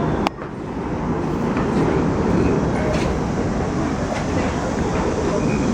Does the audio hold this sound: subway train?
yes